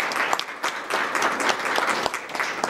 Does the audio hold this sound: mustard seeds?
no